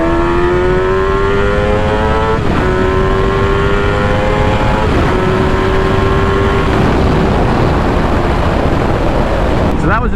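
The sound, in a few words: motorcycle accelerating in second gear, engine revving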